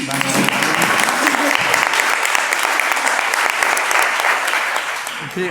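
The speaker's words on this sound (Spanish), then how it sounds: "Te iban a aplaudir, ¿eh?" Sustained applause from an audience at a political-themed conference talk, dense and loud throughout with a few voices faintly mixed in, before tapering off at the end.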